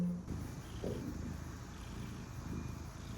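Soft, low rumbling cat purr close by, with a brief louder burst at the start and gentle rhythmic swells after.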